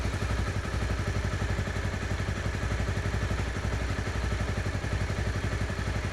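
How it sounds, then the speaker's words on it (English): A 2013 Honda CBR250R's engine idles steadily up close, a low, even, rapid thrumming pulse with faint mechanical clatter, unbroken for several seconds. "Just let it idle and let the oil circulation be done inside the engine."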